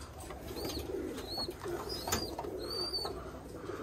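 Roller pigeons cooing inside a loft, soft low repeated coos with a few brief higher chirps over a steady background hum, moderately near.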